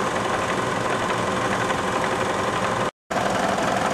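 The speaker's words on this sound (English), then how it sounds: "you can see that the mill is just coasting along, doing its thing" A milling machine cuts a sheet metal piece for a brake modification, giving a steady, loud mechanical drone that runs without a break apart from a brief dropout near the end.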